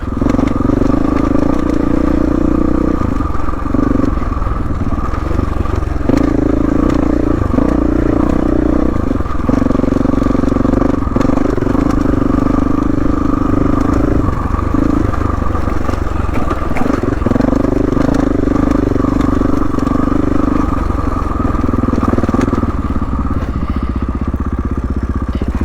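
A motorcycle is ridden over slick rock on Kane Creek Trail in Moab, its engine loud and close throughout with rising and falling revs, along with scraping and clattering over the rock.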